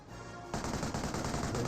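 A Vickers machine gun emplacement in Company of Heroes 1 opens up after a short lull, rattling out a dense, continuous burst of rapid gunfire at moderate volume with no voices over it.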